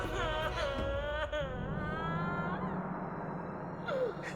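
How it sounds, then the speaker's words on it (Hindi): In a Hindi horror drama, a drawn-out, wavering wail like someone crying rises and falls in pitch over a low rumbling background, with a short moaning slide near the end. "ये किसकी रोने की आवाज है?"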